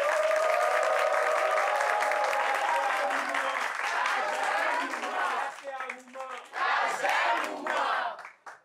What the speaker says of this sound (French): Applaudissements pour vous-même, chers amis.